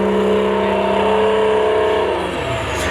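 The engine of a TLAV armoured military vehicle revs loudly and steadily up close, then its pitch drops as it eases off.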